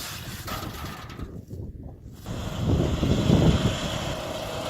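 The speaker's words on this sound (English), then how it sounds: "sit-down lawnmower slash desert tractor with the trailer has been life-saving" A sit-down lawnmower used as a desert tractor, towing a trailer while sifting sand off grid, drones steadily with wind buffeting the mic, swelling louder and closer midway through.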